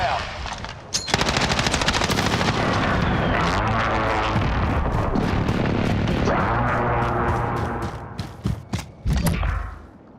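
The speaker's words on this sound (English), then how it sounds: "Friendly precision airstrike inbound." Video game battle with rapid machine-gun fire and heavy explosions from a precision airstrike, loud and sustained with dense overlapping bursts, thinning out into scattered shots near the end.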